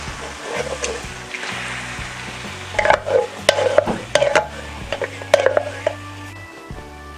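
Coconut milk poured into a hot pan and stirred, giving a low sizzle with uneven scraping and clinking stirring strokes that grow busier midway, no talking.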